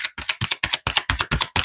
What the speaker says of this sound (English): I'm going to do one more shuffle because sometimes messages are coming from different decks